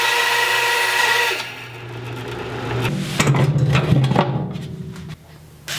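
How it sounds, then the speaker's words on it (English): A bandsaw cuts notches into the wooden legs of an old typewriter stand, loud and close, with a motor hum and a rough grinding rasp through the blade's bite, then a brief drop as the cut ends. "So I had to cut some notches on the bandsaw."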